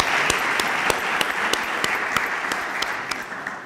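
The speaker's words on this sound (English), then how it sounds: "Nicole, let's give her a round of applause." Applause from a club audience at a youth program event, steady moderate clapping from a modest crowd with sharp individual claps standing out, heard alone without talk.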